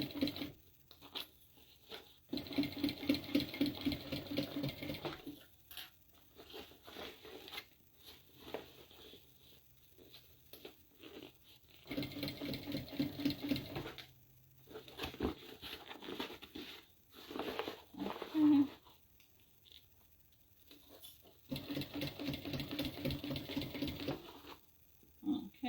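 A sewing machine stitching around the top of a small tote bag, running in several separate bursts of rapid rattling with quiet pauses between them, fairly close and moderately loud.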